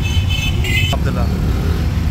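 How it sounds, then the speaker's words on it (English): Road traffic passing a moving vehicle on a hot highway, a steady low engine and tyre rumble throughout with a brief brighter whoosh of a car going by midway. "There is a car. There's more traffic, guys."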